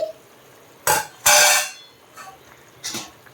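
A spoon stirring Nellore-style mango pulusu, a tamarind and ripe mango stew, in a cooking pot: four short scraping bursts, the longest in the middle, separated by near silence.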